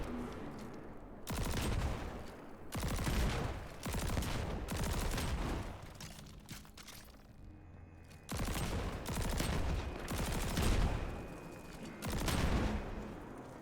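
Sustained bursts of gunfire from shooting targets in Destiny 2 during a Vesper's Host raid encounter, several long loud volleys separated by short pauses, with no talking.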